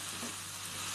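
Onions with chili powder sauté in a pan for a brief moment, a dense, even sizzle heard close up with no distinct stirring strokes.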